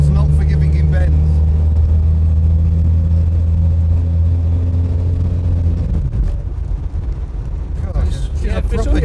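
Inside a Ford Cortina Mk3 with a 2-litre engine on the road, a loud, steady engine drone fills the cabin, then dips and shifts near the end as the car changes pace.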